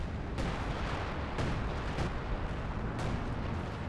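Allied artillery falls in a Company of Heroes 2 battle, giving a few heavy booming impacts within a thick, constant roar of combat noise.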